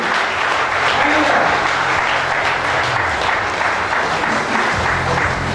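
A crowd at a business meeting in Allahabad applauds in a thick, continuous wash of clapping, loud and sustained, with voices and a faint tonal hum underneath.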